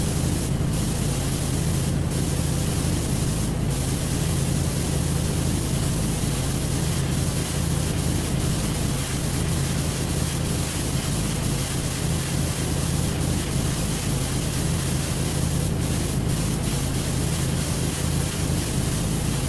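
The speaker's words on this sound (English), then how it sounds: "this washer will definitely get the Lost Palace clean with both the yellow and the red nozzles" A pressure washer sprays continuously in Power Wash Simulator while cleaning the Lost Palace, a loud, steady hissing rush of water with a low motor drone beneath, broken only by a few brief sharper bursts and no speech.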